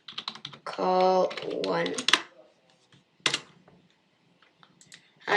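Code typed on a computer keyboard while building a responsive HTML and CSS website, with bursts of quick key clicks broken up by someone speaking nearby.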